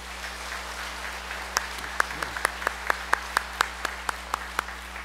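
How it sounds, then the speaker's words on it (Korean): A church congregation claps in thanks for the Hallelujah choir, with a soft background wash of applause and a run of about a dozen sharp, evenly spaced claps at a steady beat. "우리 할렐루야 찬양대를 위해서 한번 감사의 박수를 치겠습니다"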